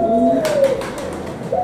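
Pigeons kept in cages at home coo loudly and close by, with a few soft wing flutters and rustles mixed in over the low, rolling calls.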